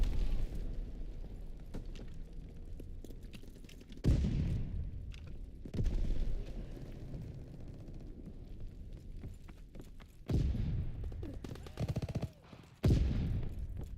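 Rapid gunfire bursts in the World War 2 shooter Call of Duty WW2, loud sharp volleys at about four-second intervals over a continuous rumble of battle noise.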